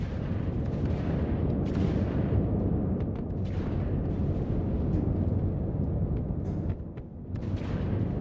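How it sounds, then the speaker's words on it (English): Dense, continuous rumbling of explosions and gunfire in a war zone outside Grimhex in Star Citizen, booming and layered with no pauses, one slight dip near the end. "Oh, wow. So much firework."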